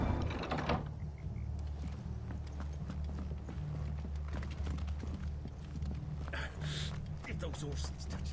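Horse hooves clip-clop in Final Fantasy XVI gameplay, a quiet, continuous patter of hoofbeats running under the game's ambient sound, with a brighter swishing burst near the end.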